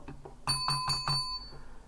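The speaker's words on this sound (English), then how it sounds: "Got to ring the bell on that one." A small bell rings four times in quick succession, bright metallic dings with a lingering ring, clear and close against a quiet background.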